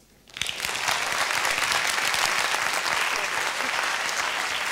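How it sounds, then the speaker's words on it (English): Presentation audience at a youth science symposium bursts into applause that starts abruptly and holds as dense, steady clapping filling the hall for several seconds. "More applause all the way here."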